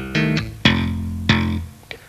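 A guitar tapping passage with hammer-ons, pull-offs and thumb slaps on F: a few sharp, ringing plucked notes with clear attacks, played alone and close, the last one short and quieter.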